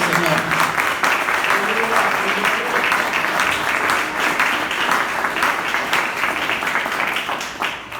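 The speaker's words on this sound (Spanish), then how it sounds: "Denle un aplauso al Señor" Steady applause from a church congregation, dense and sustained at full level for several seconds before easing slightly at the end, with faint voices mixed into the crowd noise.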